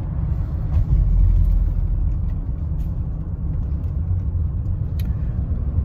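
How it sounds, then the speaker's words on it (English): A car engine puttering as it runs on an almost empty gas tank, a steady low rumble from inside the vehicle with faint uneven pulses, continuous and close. "The engine is currently puttering."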